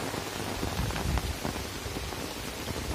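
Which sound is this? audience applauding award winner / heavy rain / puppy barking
heavy rain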